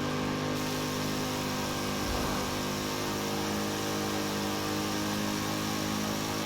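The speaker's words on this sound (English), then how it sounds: "Well, this car sounds a lot better than I thought it would." A car's engine drives in Forza Horizon 4, a steady, loud, dense drone with held harmonic tones that barely changes across the whole stretch, with a brief surge partway through and no voices.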